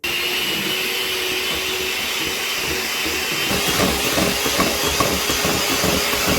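An electric mixer beats five eggs with two cups of sugar, giving a steady, close whirring drone with a hissing edge that grows slightly louder and busier partway through.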